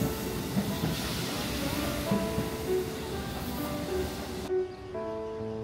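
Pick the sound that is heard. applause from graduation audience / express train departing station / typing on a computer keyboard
express train departing station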